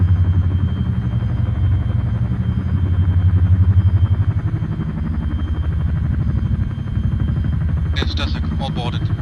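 Chinook helicopter rotors in a military video game churn as a steady low rumble throughout, with radio voices talking over the drone.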